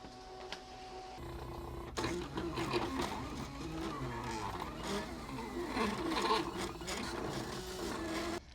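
A Silhouette cutting machine cuts through canvas material, giving a close, steady mechanical whirring and scraping with shifting motor tones; the sound starts softly, then intensifies and continues until near the end.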